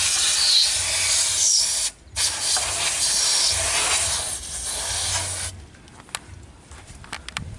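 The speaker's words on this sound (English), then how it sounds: "I'm going to use some CRC contact cleaner, quick dry, to just clean off all the residue on the valve cover area." CRC quick dry contact cleaner sprays onto the valve cover area of a 2006 Toyota Hilux diesel in a loud, close, continuous hiss with one brief pause, then fades to light clicks and handling noises.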